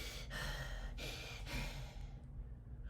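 A voice imitates heavy monster panting: several rough, breathy huffs in a slow rhythm, close to the ear, trailing off into quiet.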